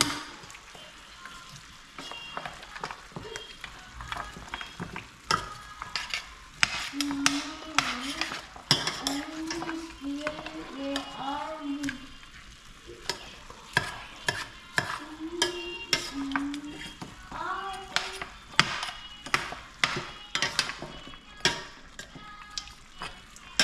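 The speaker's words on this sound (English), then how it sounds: "And you stir it in." Sweet pepper, onion and garlic are stirred into a pot of cow foot and beans, producing repeated scraping, clinking strokes of a spoon against the pot over a soft cooking sizzle, with brief talk in between.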